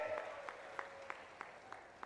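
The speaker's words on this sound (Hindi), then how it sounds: "जोरदार ताली बजाओ अपने आप के लिए" A crowd of farmers at an outdoor political rally in Katangi claps in response to a call from the stage, a faint, distant patter of regular clap bursts over a low hum.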